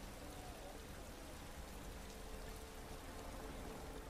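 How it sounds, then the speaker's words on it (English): Heavy rain pours over the racing circuit in MotoGP 17, a dense, steady broadband hiss of downpour that stays constant and fairly loud throughout with no talk. "At the moment it's raining heavily over the circuit"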